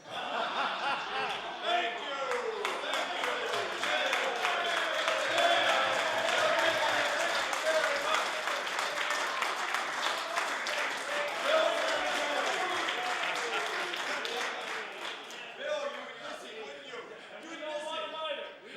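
Members of the Nova Scotia House of Assembly clap, laugh and call out in a lively chamber, the mixed crowd noise running continuously beneath someone speaking, fairly distant and moderate in level.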